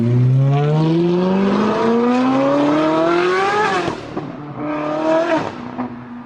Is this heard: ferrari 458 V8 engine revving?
yes